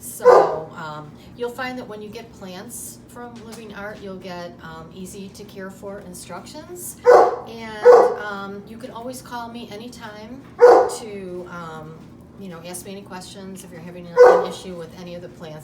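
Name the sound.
dog barking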